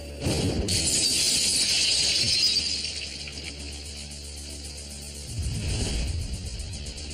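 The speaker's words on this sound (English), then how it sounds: "Military high-speed film shows what it's like when a blast wave hits a wall of glass." A wall of glass windows shatters as a bomb blast wave strikes the building, a loud sustained crash of breaking glass and scattering shards with a low rumble beneath, swelling again near the end.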